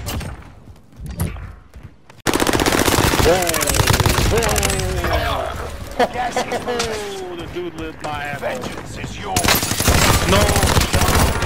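Rapid bursts of video game gunfire from a multiplayer shooter match, loud and near, firing almost continuously after a brief quieter start, with players talking over it.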